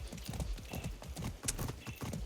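Horse hooves clip-clop in a quick, regular rhythm from the Far Cry 6 video game, close and clear, with a brief faint snort in the middle.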